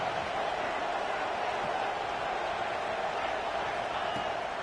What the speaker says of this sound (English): The crowd electric, trying to help Tech on this third down.